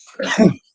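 A single sneeze from a player during an old-school tabletop role-playing session, one brief burst of under a second, close and moderately loud, with no talk inside.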